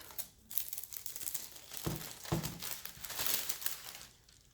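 A strip of cellophane paper for Christmas candy ornaments being handled and crinkled up close, a continuous crackly rustle with a few sharper crinkles, quiet and with no voices.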